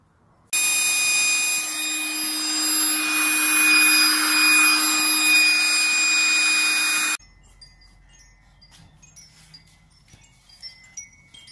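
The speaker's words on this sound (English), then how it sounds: "I'll find the motor, okay, for it to blow it up." An electric motor pump inflating something runs as a loud, steady whine for about seven seconds, then cuts off, leaving faint rustling and small knocks.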